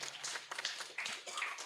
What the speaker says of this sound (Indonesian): Oke, tepuk tangan dulu biar semangat.